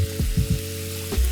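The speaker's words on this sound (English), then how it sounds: "and then get the mushrooms in" Mushrooms hit a hot pan of sausage for pasta alla norcina, giving short bursts of sizzling and crackling frying noise close up, with no speech.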